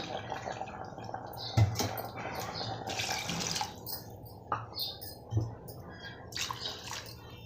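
Water poured into a pot of chicken curry during home cooking, heard as intermittent splashing and trickling with a few soft clunks, close and moderately quiet, with no talking.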